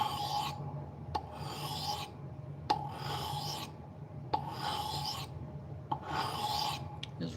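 A knife blade is sharpened on a 1000 grit whetstone, with long, even rasping strokes repeated about five times, each opening with a small click, close and quiet.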